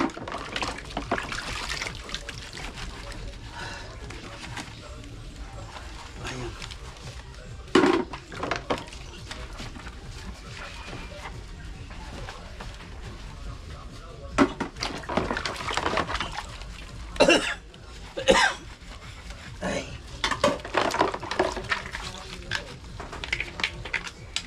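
Dishes are washed by hand under running water at a home sink, a steady trickling flow with intermittent clinks and clatters of plates, fairly close but moderately quiet.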